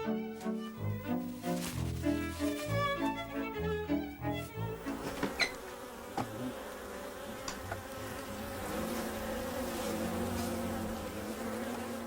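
Bees buzz densely while attacking a bee eater, a steady swarming drone over a rhythmic musical score that dominates the first half before fading.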